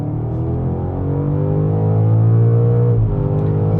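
A new BMW M5 engine revving in a deep, steady drone with layered harmonics, rising slightly in pitch and then dropping near the end, loud and close with no talking.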